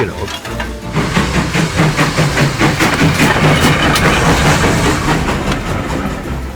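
A heritage steam train runs on the Llangollen Railway in Wales, a loud, close, continuous rumble with rhythmic clickety-clack of wheels over rail joints and a faint hiss.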